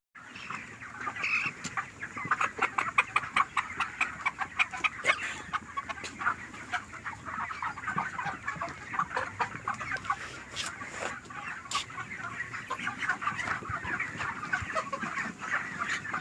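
Broiler chickens on a poultry farm cluck steadily, a dense flock chorus with overlapping calls throughout, close and moderately loud, with no talk over them.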